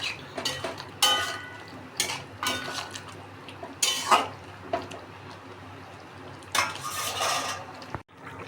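Spiced taro (arbi) masala curry stirred in a metal pot, with repeated scraping clinks of a spoon against the pan in uneven bursts over a quiet, wet simmer; no one speaks.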